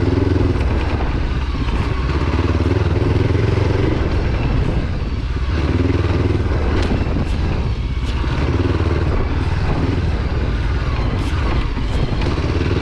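A heavy 200 kg rally raid motorcycle engine drones loudly and continuously, with clattering jolts and rattles as it rides over hard bumps on rough ground.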